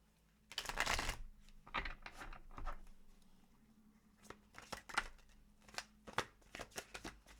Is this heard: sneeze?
no